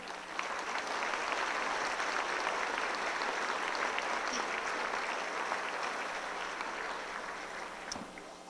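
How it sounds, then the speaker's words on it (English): Audience applause at a community sesquicentennial celebration in Petaluma, steady dense clapping from a sizable crowd sustained throughout and tapering slightly at the end. "let's have a round of applause because of the community."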